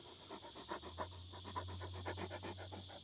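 A hot dog panting hard in the heat on a farm, rapid rhythmic breaths repeating steadily and close, with a low steady hum underneath.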